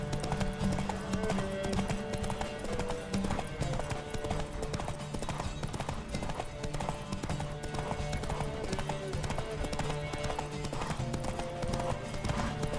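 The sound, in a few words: horse galloping in The Witcher 3 video game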